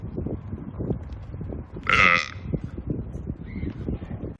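A single loud burp rises briefly over a quiet background murmur, with a faint short honk-like tone shortly after.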